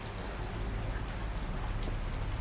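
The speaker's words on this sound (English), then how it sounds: "Thunder crackles high overhead as the raindrops strike the hard floor in rapid succession." Steady rain pattering on a hard floor, a dense continuous patter of drops at close range with a low rumble underneath that suggests distant thunder.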